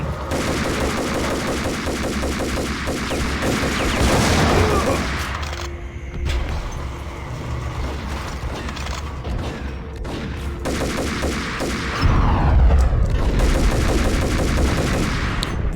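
Gunfire in the Max Payne video game: dense, loud bursts of shots over a constant game soundscape, with a quieter stretch midway before heavy firing and booming picks up again.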